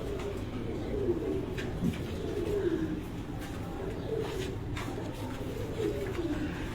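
Soft, repeated Sialkoti pigeon coos, low rolling calls recurring every second or two close by over a steady background hum.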